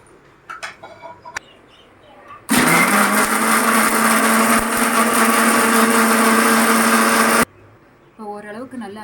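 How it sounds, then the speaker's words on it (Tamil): A mixer grinder whirs loudly and steadily for about five seconds, grinding spice paste for chicken gravy, with brief speech just before it starts and after it stops. "இப்போ நம்ம இந்த பிளேட்டில் இருக்கிற எல்லா இன்க்ரீடியன்ஸையும் மிக்சியில் போட்டு அரைச்சிக்கலாம்"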